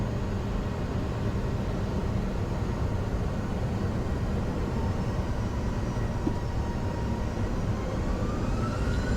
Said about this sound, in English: Ready to take off. Normal takeoff.